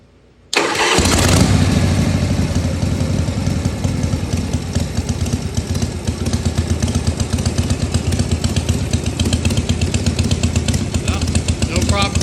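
A 1978 Harley-Davidson FXS Lowrider Shovelhead engine cranks after a brief quiet moment and catches at once, then runs loud and close with a steady, uneven V-twin lope.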